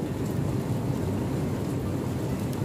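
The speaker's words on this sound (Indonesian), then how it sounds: "Di luar sedang hujan. Hujan kerikil es." Hail and rain fall outside on a cold day as a steady, dense hiss and patter that holds evenly throughout, with no voices.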